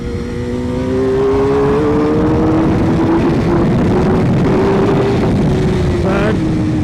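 A track motorcycle, a £1500 superbike thrashed by a British Superbike racer, revs hard while held in second gear, its engine note loud and steady with a gradually rising whine, close by, with wind roar throughout.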